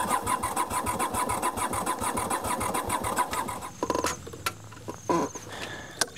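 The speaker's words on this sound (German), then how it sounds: "Jetzt fährt er eine alte Honda." An old Honda motorcycle engine cranks and catches, a steady rapid mechanical chatter running for several seconds before cutting off into scattered knocks and clatter nearby.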